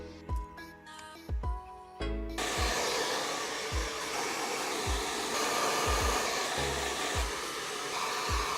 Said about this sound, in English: I'm gonna get a coffee on my brand new coffee machine